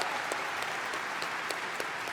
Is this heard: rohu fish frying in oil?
no